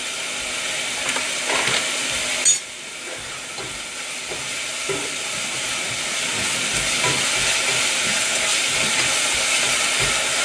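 Finely chopped onions frying with brown sugar in a hot pan give a steady sizzle, with a few soft stirring clicks and a brief sharp clatter early on.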